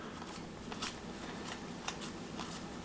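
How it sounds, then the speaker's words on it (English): Stack of 1990s Team USA Olympic basketball cards shuffled through rapidly, a soft, continuous papery flutter with a few brief louder flicks, close but quiet. "I'm just shuffling through these really fast"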